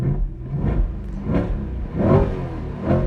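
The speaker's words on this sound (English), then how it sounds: "I've never actually given you guys a full rev of the C8 Corvette stationary." A Chevrolet C8 Corvette race car in track mode with loud exhaust revs while stationary, several rising engine pulls swelling and falling in a deep, close rumble with no talk.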